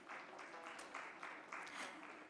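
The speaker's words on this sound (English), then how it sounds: "Can we have a round of applause, please?" Applause from an audience at a tech summit and awards ceremony, a steady mass of clapping at moderate level with no voices on top, lasting a couple of seconds.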